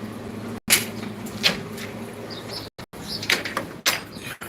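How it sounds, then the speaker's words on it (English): A house door is opened, giving a few sharp clunks and rattles spread over several seconds, with faint bird chirps in the background. "Let me get the door open."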